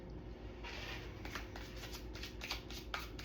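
Cards being shuffled in quick papery riffles and soft slaps, close up, over a constant low background hum.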